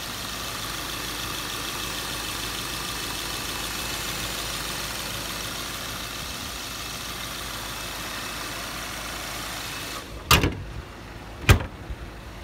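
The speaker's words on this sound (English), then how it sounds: "My phone does pick up the small engine noises, so you'll hear something like ticking the valve train and stuff." A 2015 Subaru Forester engine idles steadily with a faint rapid valve train ticking, then two sharp knocks, like a door or hood shutting, near the end.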